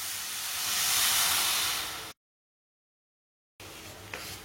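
Water poured into hot jaggery and oil in a pan gives a loud, close steam hiss for about two seconds. After a sudden silent gap the sizzling resumes more softly.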